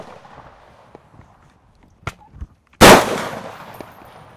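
Gunshots fired at exploding targets outdoors: a couple of faint cracks, then one loud sharp blast with a short rumbling tail, against quiet background noise.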